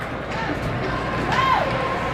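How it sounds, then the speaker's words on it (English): Ice hockey arena crowd noise during a women's game between the Falcons and the Lady Cyclones, a steady broad roar of many voices with a rising swell of cheering, a whistle-like tone cutting through near the middle. "Crowd's really pumped."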